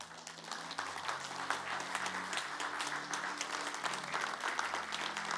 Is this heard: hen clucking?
no